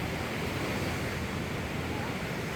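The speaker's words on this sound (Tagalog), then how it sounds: "Then, ito yung dagat." Sea waves washing onto the shore at a beach campsite in Bataan around sunrise, a steady, loud broadband wash with wind rumbling against the microphone throughout.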